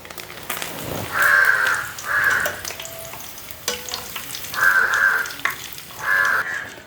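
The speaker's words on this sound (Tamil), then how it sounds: "இப்போ வந்து அடுத்தது வந்து நாங்கள் கருவேப்பமிலையை போடுவோம் இந்த எண்ணெயிலேயே" Curry leaves dropped into hot oil crackle and sizzle in four distinct bursts, each a bright spitting frying sound that fades, with quieter stirring and clinking between them.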